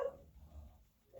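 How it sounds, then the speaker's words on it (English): Dogs barking indoors in a short, fairly faint burst at the very start, then fading into quiet room tone with no talking. "Sorry about my dogs."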